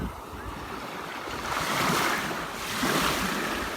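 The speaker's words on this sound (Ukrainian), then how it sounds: "Отак море надзвичайно. І тепле, і чисте." Sea waves wash steadily onto a beach, a broad rolling surf that swells and recedes, mixed with wind buffeting the microphone.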